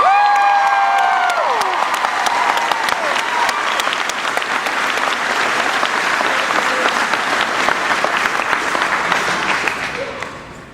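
A crowd at a baseball state championship celebration applauds loudly and continuously with some cheering, fading at the end, and a voice is briefly heard at the start.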